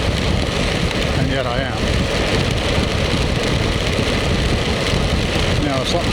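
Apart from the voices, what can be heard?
rain while riding a motorcycle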